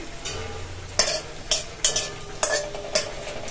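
Panch phoron spices and dried red chillies frying in hot oil for a papad curry, with a steady sizzle broken by several sharp stirring scrapes of a spatula against the pan.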